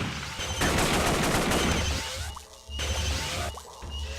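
Gunfire in a Stargate SG-1 mission-based video game, a dense, loud burst of rapid shots filling the first half, then further bursts after a short lull, with no speech.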